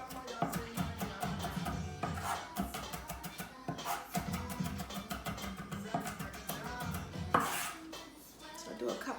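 A knife chops an onion on a cutting board for steak street tacos, a run of quick, fairly faint knocks at an uneven pace, close by in a home kitchen.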